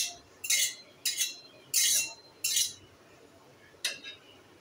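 A metal karahi wok set on a stove for frying tilapia, giving a series of five bright clinking knocks spaced about a second apart, close and fairly loud against quiet kitchen background.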